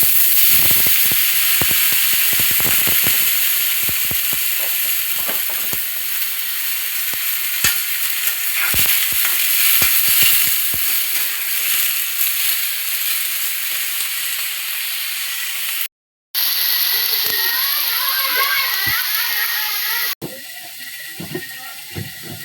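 Cleaned shrimp hit hot oil and fry with a loud, continuous crackling sizzle full of sharp pops, broken by a brief cut and then a quieter bubbling hiss.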